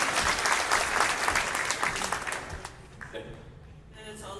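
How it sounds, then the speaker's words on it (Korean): An audience at a political party members' assembly in Anyang claps loudly and steadily, then the applause thins out and fades toward the end. "박수로 맞아주시기 바랍니다."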